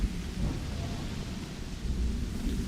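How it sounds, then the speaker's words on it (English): Thunderstorm in a tropical forest in Starfield, with dense, steady rain hiss and deep rolling thunder rumbling continuously at close range, no voices. "We got a rainstorm here. Well, thunderstorm, actually."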